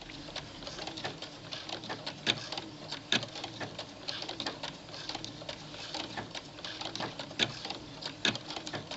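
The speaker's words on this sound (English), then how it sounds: "which allows me to sew and to cut off the excess at the same time, rather like an overlock machine" A sewing machine with a cutting attachment sews and trims a kilt seam in overlock fashion, giving a continuous busy mechanical chatter with irregular clicks and taps, close and moderately quiet.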